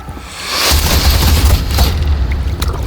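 A first wave of volley fire looses in Assassin's Creed Valhalla, a loud booming burst that swells into a dense, rumbling barrage lasting a few seconds, close and heavy with no voice over it.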